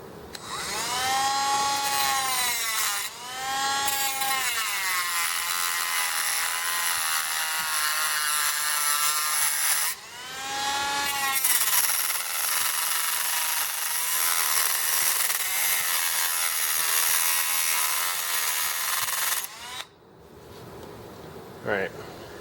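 A power saw cuts through car exhaust tubing with a loud, continuous high-pitched whine that runs almost unbroken, with a couple of short pauses and pitch shifts as the blade works down toward the far wall.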